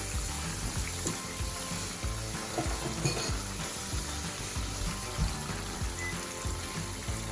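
Breaded keto chicken cordon bleu fries in a pan with a dense, steady sizzle and crackle that holds at an even level throughout, close up with no voices.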